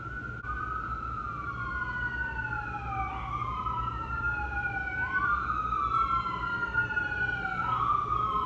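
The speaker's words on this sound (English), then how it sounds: "Just wait for those sirens to pass." Wailing sirens rise and fall continuously, overlapping as emergency vehicles pass at a moderate distance over low traffic rumble.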